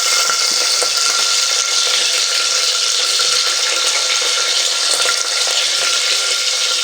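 Sliced onions fry in hot oil with cloves and a piece of cinnamon for mutton kofta masala, a loud, even, close hiss that holds steady throughout without speech.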